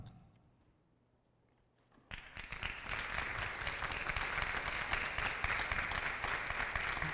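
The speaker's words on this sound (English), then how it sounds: "Big round of applause." An audience at a CCRPI celebration at Banneker High School bursts into applause after a brief quiet moment. Steady, full clapping then fills the room and carries on for about five seconds.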